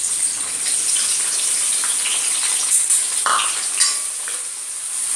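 Onions frying in hot oil over a full gas flame for noodles, a steady close hiss of sizzling with occasional stirring scrapes and spatter, no voice over it.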